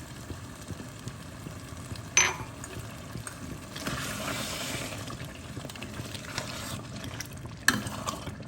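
Milk goes into a pan of Pakistani spinach and meat curry (palak gosht) and is stirred over a low flame: soft liquid sloshing and scraping under a faint sizzle, with two sharp clinks of a utensil against the pot.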